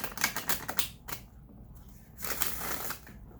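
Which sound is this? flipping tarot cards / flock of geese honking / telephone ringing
flipping tarot cards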